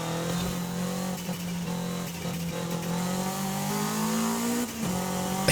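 A Toyota MR2 accelerating hard in Forza Horizon 5 at high speed, its engine a loud, steady, buzzing drone that climbs gradually in pitch, with a brief dip near the end, alone without talk.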